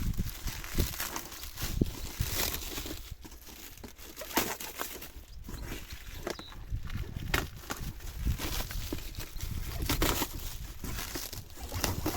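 A parcel of drip irrigation supplies is unpacked with close, continuous crinkling and rustling of plastic packaging, broken by sharper tearing and crackling bursts.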